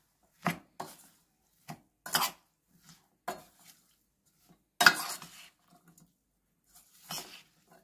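Spiced potato batter for aloo pakoras is stirred in a bowl, giving scattered knocks and scraping bursts with quiet gaps between, fairly close and not loud.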